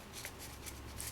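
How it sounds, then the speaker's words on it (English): Paper being folded and creased by hand for an origami airplane, soft quiet rustles and brief crisp swipes in quick succession. "take this little top triangle and fold it along this edge"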